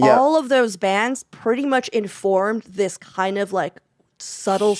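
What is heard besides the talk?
No everyday noise stands out behind the speech.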